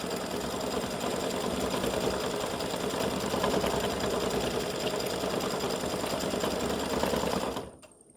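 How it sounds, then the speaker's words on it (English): An embroidery machine drives a dense satin stitch for a clover stem, a loud, steady, rapid mechanical hammering that runs unbroken at close range and then cuts off abruptly near the end. "It's got to go down and do a satin stitch for the stem."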